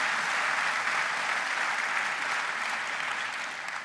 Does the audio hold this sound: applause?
yes